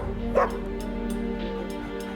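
A dog gives one short yip near the start, then soft whimpering runs under a steady low hum, outdoors in a cold winter setting.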